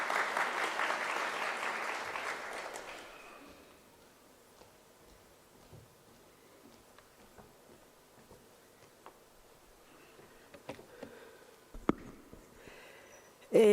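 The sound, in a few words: audience applause at a conference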